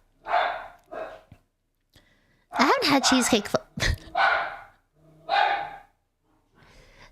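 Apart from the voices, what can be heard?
pet dog barking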